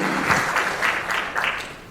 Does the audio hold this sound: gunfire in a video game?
no